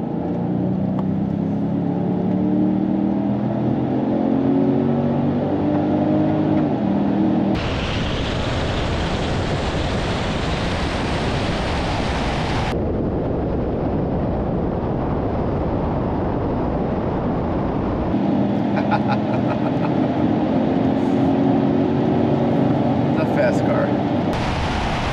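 A 2024 Genesis G70 and a BMW 330i accelerate hard in a drag race, a loud sustained engine roar and wind rush that swells sharply for several seconds mid-run, with voices talking over the noise.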